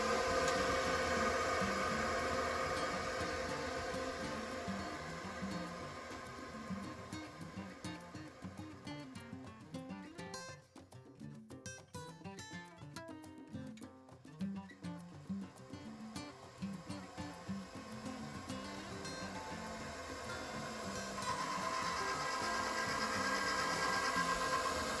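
An electric pasta machine runs steadily as it rolls out homemade fettuccine, giving a continuous broadband motor whir that dips slightly midway and then returns, with no talk.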